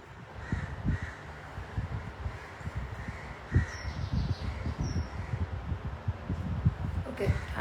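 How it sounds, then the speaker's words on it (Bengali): Crows cawing and squabbling outdoors, repeated harsh caws at close to middle distance, with a soft voice murmuring underneath at times. "আপনারা কি পাখির কলহ শুনতে পাচ্ছেন একটু জানায়েন তো আমাকে"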